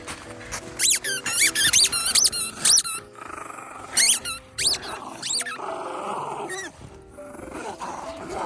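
A dog plays with a squeaky ball outdoors, producing bursts of sharp repeated squeaks mixed with low playful growls, loud and close, with short pauses between squeezes.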